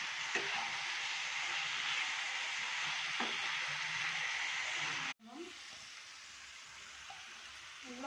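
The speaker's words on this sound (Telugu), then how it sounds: "ఫ్రై చేద్దాం. తర్వాత టమాటా ముక్కలు వేసుకుందాం." Tomato pieces fry in a pan for prawn curry, a soft steady sizzle heard from a distance, briefly cut off midway and then resuming more quietly with faint clinks and movement.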